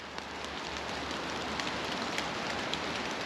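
Steady rain falls in England, a dense, even hiss of drops pattering on surfaces close by, constant throughout with no voices.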